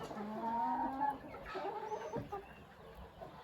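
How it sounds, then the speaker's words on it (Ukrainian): A white American-breed rooster with little tail clucks softly and intermittently close by on a small farm, with other fowl faintly mixed in. "І оцей білий півник."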